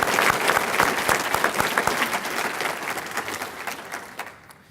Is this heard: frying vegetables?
no